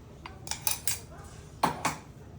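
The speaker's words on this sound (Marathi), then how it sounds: "चमच्याने छान एकजीव करून घ्यायचं." A spoon mixes moong dal dosa batter in a bowl, making a handful of quiet, sharp clinks against the bowl in an uneven rhythm.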